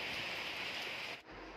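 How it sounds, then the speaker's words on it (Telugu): Steady heavy rain with wind, a dense continuous wash of noise that fills the air, then drops off abruptly near the end. "ఫుల్ గాలి వాన చూడండి ఒకసారి."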